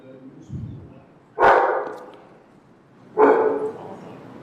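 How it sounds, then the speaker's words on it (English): A dog barks twice inside a city commission meeting chamber, two loud, close barks about two seconds apart, with a faint murmur of background voices. "It would really be helpful if your dog's going to bark if you take him outside the chambers."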